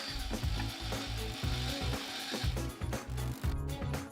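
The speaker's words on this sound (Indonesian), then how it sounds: "pasang starting clip dan bor sekrup di setiap awal joist" A power drill drives screws into joists for WPC composite decking, giving bursts of low rattling, pulsing whirr in quick repeated runs with brief pauses between them, close up and without speech.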